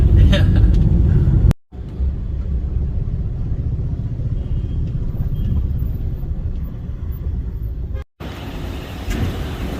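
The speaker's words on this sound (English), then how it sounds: "Out of the airport, we're in our first taxi heading into Mumbai." Taxi ride from the airport into Mumbai, with a steady low engine and road rumble filling the cabin and traffic noise around, cut by two brief dropouts; a voice is faintly present under the drone.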